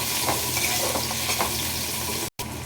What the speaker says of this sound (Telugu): ఎరగట్లు తొందరగా వేగటానికి సాల్ట్ వేస్తున్నాను